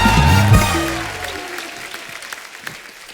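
Loud applause from a TV comedy show studio audience greets arriving guests, starting under a swelling musical tone that fades, leaving sustained clapping.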